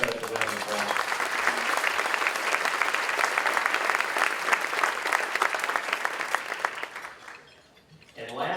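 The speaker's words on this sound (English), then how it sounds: "Please join me in giving them a very special round of applause." An audience at an award luncheon gives a sustained round of dense applause that holds steady for about seven seconds and then fades out, followed by a voice starting to speak.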